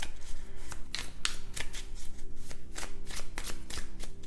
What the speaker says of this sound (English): cards are falling all over the place